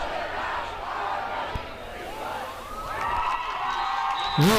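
Crowd at a high school football game between St. Cloud Tech and Hutchinson, with steady shouting and cheering throughout, swelling louder near the end, and a voice rising over it.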